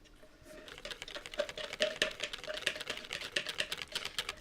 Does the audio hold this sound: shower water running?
no